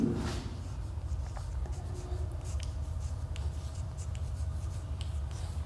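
Chalk or marker writing on a board during a maths lesson, a run of short scratchy strokes close by over a steady low room hum, with no voice.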